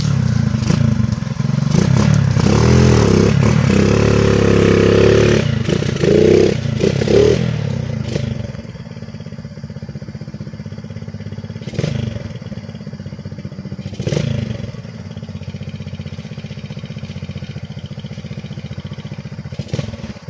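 A motorcycle engine idles loudly up close for several seconds, then drops to a quieter rumble with occasional clunks and scrapes.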